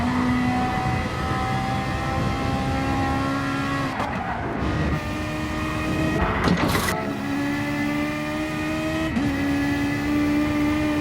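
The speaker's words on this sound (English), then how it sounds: "there's the 458 Ferrari of Mataboy already pitting. So coming in quite a bit early" A Ferrari 458 race car in a racing video game, its engine droning steadily and loud throughout, with pitch shifts at gear changes and a few brief skid-like bursts, no talking.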